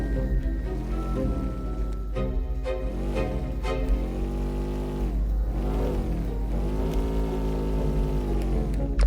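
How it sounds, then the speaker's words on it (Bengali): Car engine from a video game, a steady mid-pitched drone that rises and falls in pitch over and over as it revs and eases off, loud and continuous with no talk over it. "ওই গাড়িটা চালানো তো অনেক কষ্টের বিষয়, তাও চলো আস্তে আস্তে আমরা গাড়িটা চালাই যাই।"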